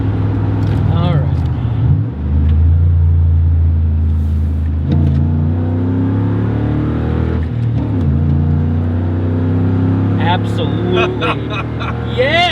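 Ford F150 pickup on nitrous accelerating from about 35 to 70 mph, a steady loud engine drone rising in pitch through several gear changes, heard from inside the cab with occasional voices over it.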